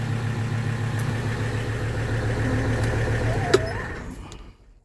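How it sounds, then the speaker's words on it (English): A 1985 Mercedes 300TD diesel idles with a steady, throbbing rumble, close by, then shuts off near the end and the sound quickly dies away to silence. "you notice how the engine just shut off?"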